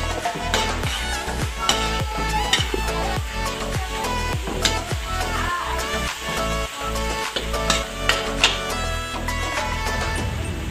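Egg and tomato frying in a pan for a bitter melon dish, with a steady loud sizzle and repeated scraping strokes of a utensil stirring through the mixture, close and continuous throughout.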